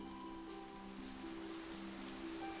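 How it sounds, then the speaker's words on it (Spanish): Rain falling in the MiniWorld survival game, a steady soft hiss of drops running unbroken through the whole stretch with faint tonal game music lines beneath and no talking. "No jodan que sigue lloviendo"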